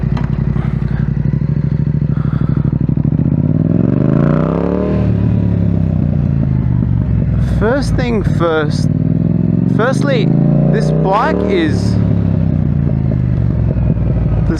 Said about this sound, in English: The sound this bike makes on the Akrapovic exhaust is just amazing